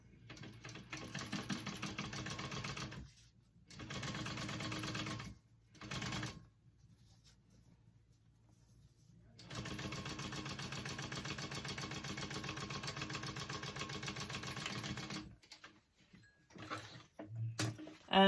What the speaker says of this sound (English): You guys could totally sew this on a domestic machine, by the way. I'm just using my industrial